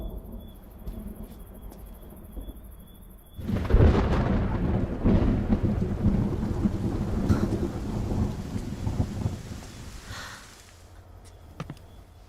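Thunderstorm with rain: a loud thunder rumble breaks in and rolls for several seconds over steady rainfall, with insects chirping faintly before and after.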